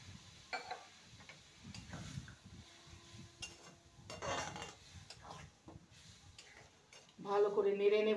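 Sabudana khichdi with boiled dal is stirred in a pan: close, irregular spoon scrapes and light clinks against the pan under a soft background, with a voice speaking near the end.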